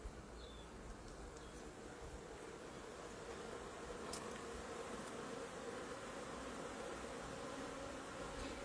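Honey bees swarm around an observation frame outside a hive, making a dense, steady buzz that stays fairly faint and even throughout.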